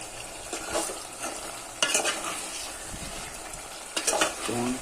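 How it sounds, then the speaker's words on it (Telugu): Chicken frying in oil with chili powder, a steady close sizzle and bubbling with bursts of stirring scrapes against the pan, loud and continuous without talk. "దగ్గరికి అయిపోయి చక్కగా ఉడుకుతుంది, నూనె ఉడుకుతుంది."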